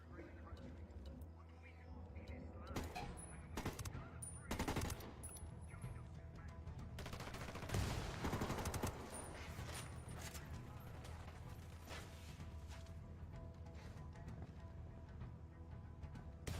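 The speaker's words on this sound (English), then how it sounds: "I'm opening fire." Game gunfire from Ghost Recon, bursts of automatic shots and a dense fusillade running through a loud, busy battle soundscape, with speech-like voices mixed in.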